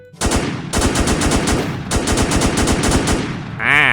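Rapid automatic AK rifle fire in a Minecraft zombie-shooter server, in two long bursts, loud and close, with a short pause between them and a metallic ringing tail at the end.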